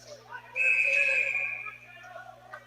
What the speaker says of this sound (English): we got another whistle early on